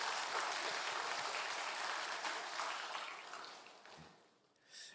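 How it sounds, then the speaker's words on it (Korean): Church congregation applause of thanks during a Sunday worship service, a broad hissing wash of many hands heard at a distance, fading gradually toward the end before a brief faint rustle. "하나님께 우리 감사의 박수 드리겠습니다"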